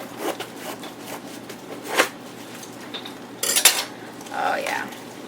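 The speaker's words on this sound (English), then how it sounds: "I'm going to go ahead and just cut it down the middle" A knife cuts through a Napa cabbage on a board, with crisp crunching cuts and a few sharp clatters and scrapes at irregular intervals, close by.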